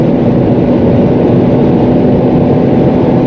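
A 380-horsepower Volvo V60 Polestar T6 pulls hard on the Autobahn, its engine a dense, steady drone heard from inside the cabin, loud and continuous with no talk over it.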